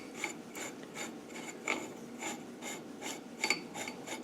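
A threaded part being screwed down on an LT77 gearbox during a rebuild makes faint, close, evenly spaced ratcheting clicks and scrapes in a steady rhythm, with no talking.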